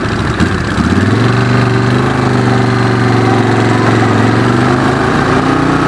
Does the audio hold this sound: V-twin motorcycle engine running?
yes